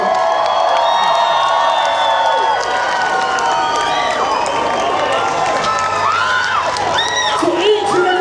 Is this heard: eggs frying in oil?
no